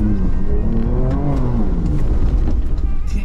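An off-road vehicle on BFGoodrich KO3 tires drives a trail, its engine rumbling loud and close with a steady drone and rising revs throughout, with no talk.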